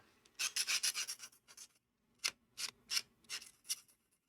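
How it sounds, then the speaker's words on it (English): A DIY carving tool blade is sanded along its inside curve in quick, close, raspy scraping strokes, a run of rapid rubs, a short pause, then several more separate strokes. "I'm using the inside curve of this to sand it."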